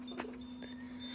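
A handheld ghost detector gadget gives off a steady electronic tone throughout, near and even in level. Brief faint clicks and chirps are scattered over it.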